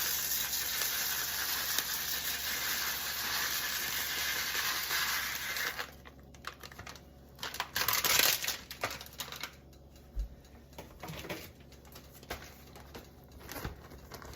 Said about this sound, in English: We've got a skillet over medium heat with a little bit of bubbly butter, and we are going to first add our couscous